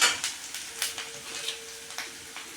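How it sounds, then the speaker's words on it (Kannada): Almonds and cashews frying in a pan for masala rice, a soft sizzle under scattered scraping and clinking of a spoon against the pan as the nuts are stirred. "ಬಾದಾಮಿ ಮತ್ತು ಗೋಡಂಬಿ ಅವನ್ನೆಲ್ಲ ಚೆನ್ನಾಗಿ ಫ್ರೈ ಮಾಡಬೇಕು"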